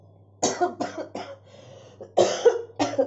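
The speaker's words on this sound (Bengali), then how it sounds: "এত কাশি হচ্ছে" Several harsh coughs from one person at close range in two bursts, the first three rapid, then a pause before two or three more, over a quiet background with a steady low hum.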